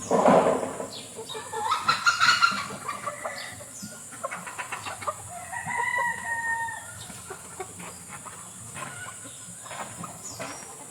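A rooster crows a few times at a moderate distance, with clucking hens and other farmyard bird calls scattered throughout.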